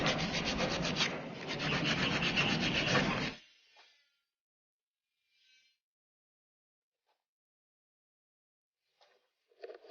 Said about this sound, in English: Dami pa akong lilihain dito.